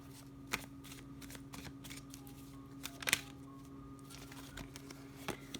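Tarot cards are shuffled by hand in a quiet room, soft riffling patter broken by a few sharper snaps and taps.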